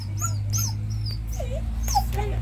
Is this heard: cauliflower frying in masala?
no